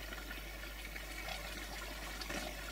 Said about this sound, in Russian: Воды еще много. Ну, пусть выкипает постепенно.